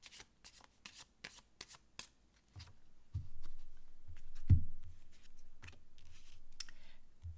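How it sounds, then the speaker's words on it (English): Crisp riffling bursts of tarot cards being shuffled, a few quick rapid flutters followed by softer handling and light taps, close and fairly quiet. "Let's give this a quick shuffle."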